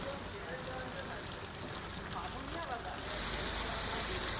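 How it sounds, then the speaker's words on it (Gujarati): Torrential rain pours down in Ramgadhi and Batiwada in Aravalli district, Gujarat: a thick, unbroken hiss of water that stays loud and close from start to finish, with no pauses. "રામગઢી અને બાટીવાડામાં પણ ધોધમાર વરસાદ ખાબક્યો છે।"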